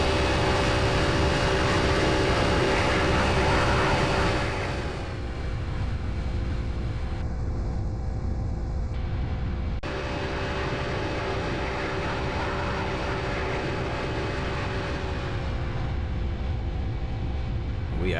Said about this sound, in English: Alright, speaking of fast, time for a flyby.